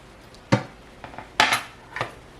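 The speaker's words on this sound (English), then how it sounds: "Put our tomatoes in." Tomatoes dropped into a cucumber salad bowl, heard as a few sharp clinks and soft thuds against the dish, spaced irregularly and close by, with no talk.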